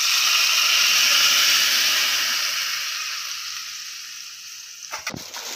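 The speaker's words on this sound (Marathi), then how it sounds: "आता गॅस बंद करायचा आणि आता ह्या तडक्यात चटणी ओतूया" Hot mustard-seed and curry-leaf tempering, with the gas turned off, hisses in a loud steady sizzle as mint chutney is poured in. It fades gradually, then a few brief clatters follow.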